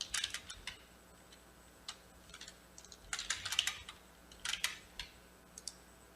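Typing on a computer keyboard while entering dimension values in AutoCAD, with quiet clusters of rapid key clicks separated by short pauses.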